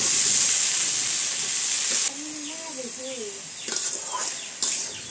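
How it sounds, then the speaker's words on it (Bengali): Onion and green chilli fry in a pan for a vegetable bhaji, a loud close hiss that suddenly drops to a softer sizzle, with faint bird chirps in the background. "আর পেঁয়াজ কাঁচামরিচ দিয়ে দিলাম ভাজি করার জন্য।"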